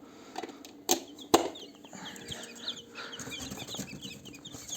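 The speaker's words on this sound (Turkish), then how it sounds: "Köy tavuğu yumurt köy tavuğu civcivlerimiz var." Village chicken chicks cheep continuously in a busy, close chorus, with a couple of sharp knocks and faint clucks mixed in.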